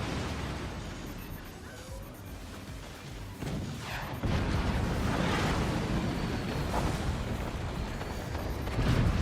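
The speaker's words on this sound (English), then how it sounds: "The howitzer makes it clean through into the Chinese fort." A howitzer shell strikes a Chinese fort in a naval battle video game, a heavy explosive boom with a long, rumbling, noisy aftermath that swells in loudness.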